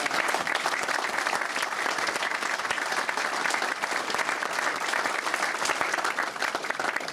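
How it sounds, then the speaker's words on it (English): Steady, sustained audience applause for a youth marching band, a dense even clatter of many hands clapping throughout with no pauses. "So a big round of applause for"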